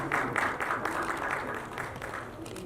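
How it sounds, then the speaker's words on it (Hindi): Steady crowd applause for the judges of Super Dancer Nepal at a televised event, dense and moderately loud throughout, tapering slightly toward the end. "फेरि पनि उहाँहरूको लागि ताली"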